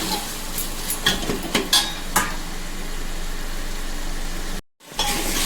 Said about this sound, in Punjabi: ਇਹਨੂੰ 5 ਮਿੰਟ ਵਾਸਤੇ ਆਲੂ ਨੂੰ ਭੁੰਨ ਕੇ